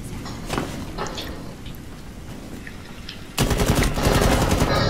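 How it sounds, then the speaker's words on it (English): Automatic gunfire from the video game Rainbow Six Siege rattles in rapid bursts, with faint shots early on and a louder, denser burst in the final seconds. "Damn, I don't want to shoot you in the head."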